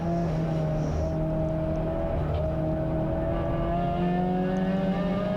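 Race car engine in a CSCC endurance race at Anglesey circuit, droning steadily and loud throughout with shifting harmonic pitch as the driver brakes and works down through the gears.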